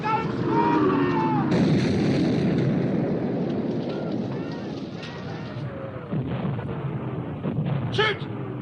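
Naval guns aboard warships firing in a sea battle against the German battleship Bismarck, heavy booming salvos rolling one after another under shouted orders and music, with a sharp burst near the end.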